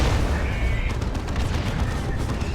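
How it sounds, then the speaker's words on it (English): Plasma Guardsmen and a Leman Russ tank firing in Dawn of War 2, a loud dense barrage of shots and booming blasts layered over one another, with a voice speaking beneath the battle. "Plasma Guardsmen and a Leman Russ shooting at them."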